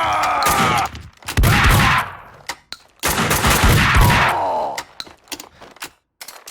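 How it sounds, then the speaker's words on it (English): Gunfire in Max Payne 2 on Xbox: loud, close bursts of rapid shots with booming low-end impacts, two long volleys followed by scattered single shots and clatter. "Someone must have heard the gunfire."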